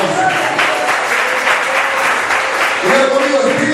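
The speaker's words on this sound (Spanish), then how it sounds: "¿Por qué le damos un aplauso?" A church congregation applauding together in a sustained, dense burst of clapping that holds steady throughout, with some voices mixed in.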